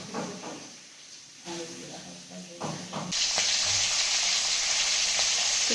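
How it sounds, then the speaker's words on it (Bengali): Pumpkin pieces frying in a pan at home, with quiet clatter and talk before a loud, steady sizzle swells up close and continues to the end. "কুমড়োটা ভাজা হয়ে গেছে"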